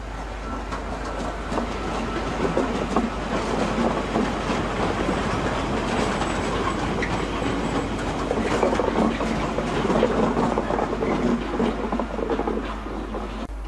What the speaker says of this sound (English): The railhead treatment train continues to Kingmore after a reversal at Grangetown.